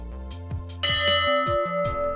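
A ship's bell, the Abana Bell at St Andrew's Church in Cleveleys, rings out loudly and resonantly, its tone hanging and decaying, with repeated softer strikes and no talking.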